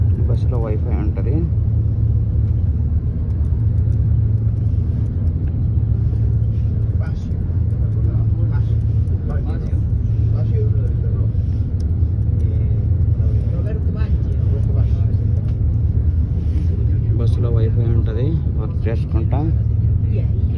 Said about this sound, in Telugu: ఇది బస్ డబుల్ డెక్కర్, కింద డ్రైవర్ ఉంటారు.